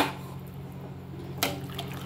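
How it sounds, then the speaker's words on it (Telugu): Water pours into a cooking pan of vegetables for rice semiya upma, a steady close splashing wash with a brief louder splash near the end. "ఇప్పుడు ఇందులో వాటర్ పోసి ఉడికిద్దాం"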